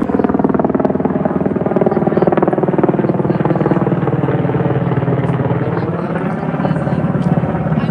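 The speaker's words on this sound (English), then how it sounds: "did you guys see that helicopter?" A helicopter passes close overhead, its loud, throbbing rotor chop steady throughout, with some people talking beneath it.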